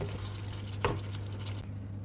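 Beef chili being stirred in a wok, a close steady frying sizzle with one sharp scrape of the utensil near the middle, no talk.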